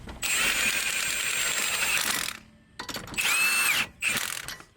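Lug nuts being tightened onto a Nissan 300ZX wheel with a power tool, with two loud mechanical whirring bursts of about two seconds and one second plus a brief third burst, separated by short pauses. No talking.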